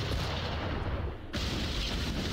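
Cannons fire in a naval battle in Assassin's Creed 4 Black Flag, a dense, loud stretch of booming blasts and rumble that drops briefly, then surges back.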